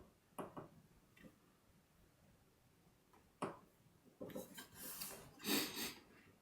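Paper being rubbed on a carved woodblock print makes soft, scattered rasping strokes at first, then a denser run of scratchy rubbing, close and quiet.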